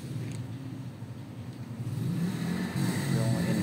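A Suzuki Raider 150 motorcycle engine fitted with a stage 3 carburetor revs nearby, its mid-pitched buzz rising in a couple of short throttle blips over a few seconds.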